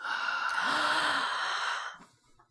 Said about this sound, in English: open your mouth and take a big breath in like this